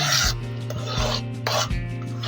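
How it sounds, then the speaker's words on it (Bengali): A spoon scrapes and rubs around a pot of Gobindobhog rice payesh thickened with milk powder over a low flame, a close, steady rasping stir with a low hum beneath. "ভালো করে নাড়তে থাকতে হবে"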